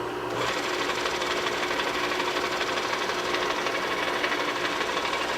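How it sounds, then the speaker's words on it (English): A Bridgeport milling machine runs in back gear, giving a steady, loud mechanical whir and hum that starts abruptly and holds evenly throughout without talk. "Back gear is sounding pretty good."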